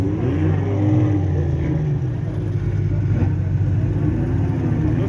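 Pro-category drift car entering a race track, its medium engine rumbling and revving with rising and falling pitch over a steady low drone, fairly close and continuous.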